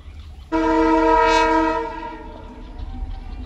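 A small rail bus train passing a viewpoint, sounding a single sustained horn blast for about a second and a half that then fades into low rumbling background noise.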